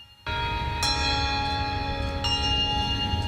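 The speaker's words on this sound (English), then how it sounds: "52 bell rings signifying each week we've been living through COVID-19" A memorial bell tolls for COVID-19 victims at an outdoor gathering, two or three loud, ringing strikes spaced about a second and a half apart, each leaving a long, shimmering sustain that overlaps the next.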